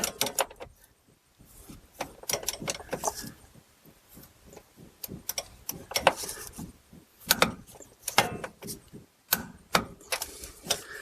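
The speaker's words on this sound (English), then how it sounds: "Then we'll go ahead and torque this to 55 foot-pounds" A torque wrench tightens a rear shock absorber bolt to 55 foot-pounds on a Chrysler Town and Country or Dodge Caravan, giving close, sharp ratcheting clicks in uneven bursts with short pauses between them.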